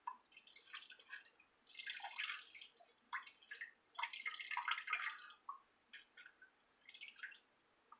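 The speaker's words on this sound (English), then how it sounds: "Squeeze some of this out in this colander because I got a little bit too much liquid in there." Excess liquid draining from food through a colander while preparing egg rolls, a faint close patter of drips and trickles in uneven bursts, with no voices.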